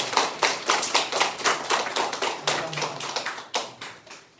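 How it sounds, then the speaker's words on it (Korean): A church congregation at a founding worship service claps together in a brisk, even rhythm, with loud close hand claps repeating steadily for several seconds and almost no talking. "모든 영광 하나님께 박수 올려드리겠습니다"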